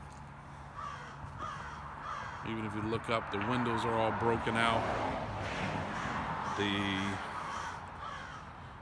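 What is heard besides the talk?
crows cawing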